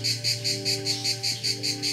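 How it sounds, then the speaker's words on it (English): A loud, pulsing cicada buzz in a Thai forest, rising and falling in steady rhythmic waves about four times a second, continuous and close. "Cicadas are one of the noisiest insects on the planet."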